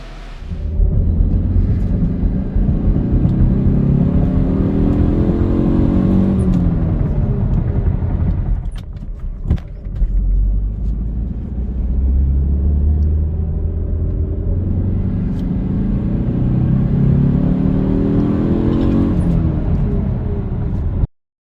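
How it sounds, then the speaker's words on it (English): A car on a short road drive, accelerating in two long pulls with engine rumble rising and falling in pitch, a brief dip in between, loud and close with no talking. "Let's go on a short drive to get some footage of the base acceleration."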